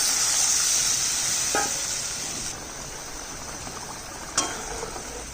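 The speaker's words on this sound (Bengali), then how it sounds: "হয়ে গেছে, জল দিয়ে দিচ্ছি।" Water poured into a sizzling pan of vegetable curry, a dense continuous hiss with a bright high edge that eases off slightly, broken by a couple of brief metallic clinks.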